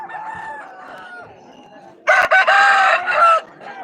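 A fighting rooster at a Shiva Gajan village fair crows loudly and close by in one long, strained call, preceded by softer clucking and faint background noise.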